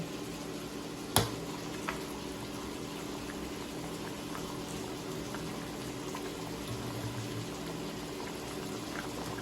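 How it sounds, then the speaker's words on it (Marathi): Fish pieces go into a bubbling curry pot for a Marathi eel fish rassa, with one sharp splash and clunk, then a steady low simmer and gentle bubbling. "मी याच्यानं आता मच्छी टाकते."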